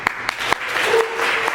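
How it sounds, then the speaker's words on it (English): An audience at a sustainability summit welcomes a speaker with brief applause, a few distinct claps rising into a short wash of clapping. "please give a warm round of applause for Donna"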